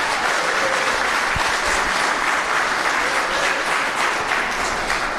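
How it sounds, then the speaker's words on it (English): A room full of people at a merit awards ceremony breaks into steady, full applause that carries evenly throughout. "Please give yourselves a good applause."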